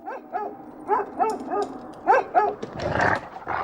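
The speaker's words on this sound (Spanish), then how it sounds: "los perros han empezado a formar manadas y a luchar por la supremacía" Several dogs bark, yip and whimper in quick succession on a city street, a cluster of short, excited calls close by with some growling underneath.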